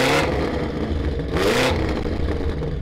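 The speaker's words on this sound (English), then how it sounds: "Go on then, rev up the blue M5." A tuned 1000hp BMW M5 with an aftermarket exhaust and new intake revs hard nearby, two loud rising bursts of engine roar over a steady rumbling idle, with no talk.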